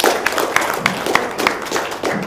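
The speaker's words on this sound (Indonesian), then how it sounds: "Yo, tepuk tangan dong, luar biasa" An audience in a Q&A session claps for a guest, giving brisk, steady applause with dense overlapping claps at moderate loudness.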